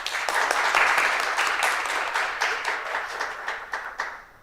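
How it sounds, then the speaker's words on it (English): Applause from the audience at a parish youth parliament sitting honours the facilitator, a steady round of many hands clapping that gradually thins into scattered individual claps over about four seconds. "Join with me, ladies and gentlemen, in giving her a well-deserved round of applause."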